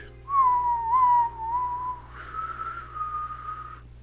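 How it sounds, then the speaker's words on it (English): A person whistles a wavering, off-key tune through dry lips, one continuous melodic line of about three and a half seconds, moderately loud and with no talking. "I'm telling you, my fucking whistling sucks today."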